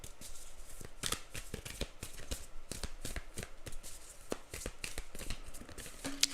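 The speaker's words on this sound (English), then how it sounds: "I'm going to just shuffle it again." Tarot cards being shuffled by hand, a quick rapid riffling patter of soft snaps and flutters, close and fairly quiet, with no voices.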